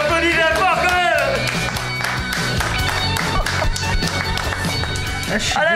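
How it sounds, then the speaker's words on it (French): A studio audience applauds loudly and steadily throughout a French television music show, the dense clapping mixed with crowd noise, shouts and voices talking over it. "Oh les applaudissements fort quand même."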